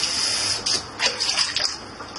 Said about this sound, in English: Throw some water on here